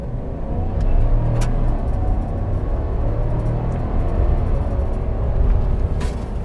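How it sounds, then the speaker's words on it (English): A 2020 Chevy Trail Boss pickup on off-road tires rolls over a rough, bumpy road, giving a continuous loud low road roar with mild swells as it drives. "And you guys hear the tires."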